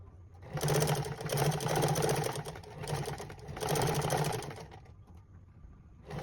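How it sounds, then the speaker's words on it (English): A sewing machine runs a straight stitch on tailored shorts in two long, loud bursts of rapid whirring, then a softer, shorter run, with brief pauses between them. "So from here, I want a straight stitch."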